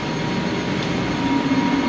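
Dense, steady mechanical roar of a new MEC 11,000 kW ship's main engine running in an engine room, loud and close with a constant droning hum and no pauses.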